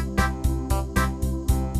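Freedom 3 organ playing its American Bandstand rhythm style, a steady looping beat of punchy drum hits roughly every quarter second over sustained bass and chord tones, loud and close.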